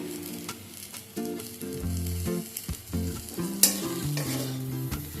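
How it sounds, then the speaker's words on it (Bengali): Chicken in a ground spice masala stirred and fried in a pan over low to medium flame, with a steady close sizzle broken by repeated scraping and clinking strokes of the spoon. "চিকেনটাকে লো টু মিডিয়াম ফ্লেমে এটাকে নাড়াচাড়া করতে হবে"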